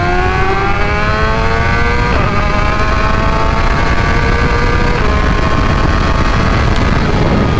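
A 2024 BMW M1000XR motorcycle on stock tuning in race mode, accelerating hard from 60 to 130, with a loud continuous engine roar whose pitch climbs steadily through the gears, close and alone.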